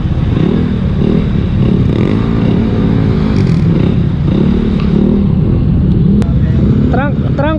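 A group of about fifteen motorcycles riding together on the Mindoro Loop, with a continuous near engine drone and rising and falling revs, under steady wind rumble.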